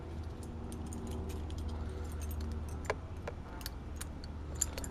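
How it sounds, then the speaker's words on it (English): A big set of keys jangles faintly in short metallic bursts against a steady low engine-like hum, with a few sharper clinks near the end. "Just use my big set of keys."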